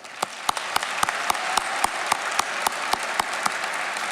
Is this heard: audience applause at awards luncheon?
yes